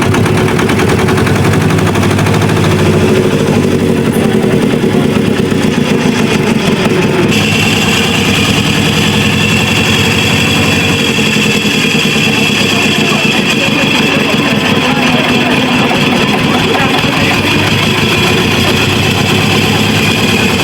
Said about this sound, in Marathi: आता भावांनो काय मग बोटवाल्याने मस्त स्टार्टर मारला बोटचा.